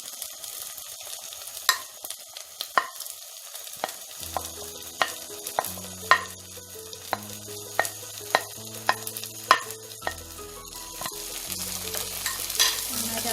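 Shallots (small red onions), 200 grams, tipped into a pan and stirred for a dry chicken dish, give a steady sizzle broken by repeated sharp scraping stir strokes at an irregular rhythm, close and moderately loud, with no talking.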